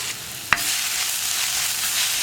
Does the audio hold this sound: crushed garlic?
yes